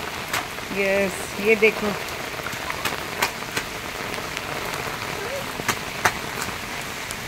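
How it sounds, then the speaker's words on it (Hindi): Heavy rain pours outdoors in a steady, close hiss, with scattered sharper drops and splashes. A voice speaks briefly over it near the start. "ये देखो कितनी बारिश हो रही है"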